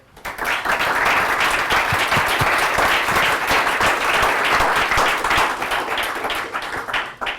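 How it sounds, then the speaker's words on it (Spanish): A meetup audience at a Python Madrid Big Data tech talk breaks into sustained applause for the presenter, dense steady clapping filling the room for several seconds before tapering off at the end. "Un aplauso para Álvaro"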